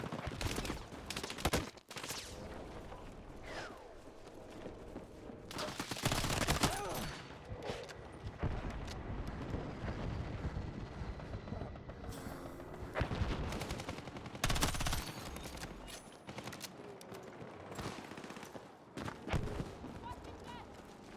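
Submachine gun in burst-fire mode in Battlefield 6, delivering rapid clusters of sharp shots in repeated short bursts over a span of several seconds, with other gunfire and battle noise around.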